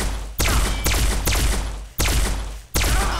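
Alien blaster from Fallout firing in Garry's Mod, four loud, sharp energy-weapon shots at an uneven pace, each with a bright crack and a long booming tail that rings out before the next.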